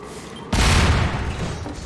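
Grenade blast in the Garry's Mod zombie survival game: a sudden loud boom with crackling gunfire-like burst that slowly decays over a second or so, with no talk.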